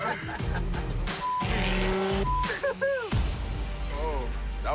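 Car drifting with squealing tires, the engine roaring loud and close while rubber screeches and whines in rising and falling sweeps throughout.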